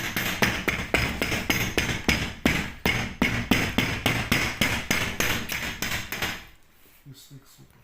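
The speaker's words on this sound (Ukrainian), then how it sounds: "Тепер беремо гумовий молоток або легенький пластиковий і досаджуємо." A rubber mallet thuds repeatedly in a quick, even rhythm, tapping a YuMZ tractor door into place, close and solid, for about six seconds before falling quiet.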